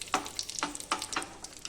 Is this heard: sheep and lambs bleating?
no